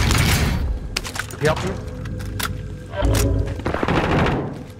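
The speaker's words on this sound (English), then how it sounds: "I'm getting shot at." Gunfire in the video game Call of Duty: Warzone, repeated loud bursts and cracks over several seconds, with people talking over the shooting.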